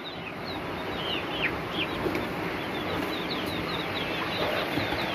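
Chickens and ducks clucking and flapping their wings, with scattered chirpy calls over a constant rustling background.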